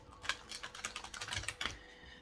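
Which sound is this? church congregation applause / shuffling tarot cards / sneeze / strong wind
shuffling tarot cards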